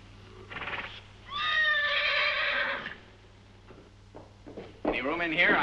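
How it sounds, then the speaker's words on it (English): A horse whinnies loudly up close, with a few hoof clops and scuffs around it, then another excited neigh near the end. "We'll need Alex's horse."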